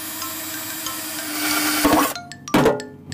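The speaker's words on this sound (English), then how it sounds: "First of all, we are gonna drill those 2 holes" A hole saw from an inexpensive 16-piece kit, meant mainly for wood, bores two holes for a camper van heater's combustion intake and exhaust, heard as a loud whirring grind that builds, cuts off briefly, then starts again.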